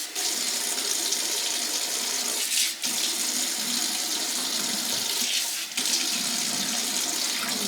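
Tap water runs steadily into a sink while canning equipment is washed for pressure canning garden peas, a continuous close splashing hiss with two brief dips, no talking.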